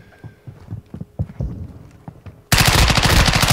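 Automatic gunfire from Call of Duty: Modern Warfare 2 during online play, starting as scattered sharp shots and then bursting into a loud, continuous rapid-fire barrage in the last second.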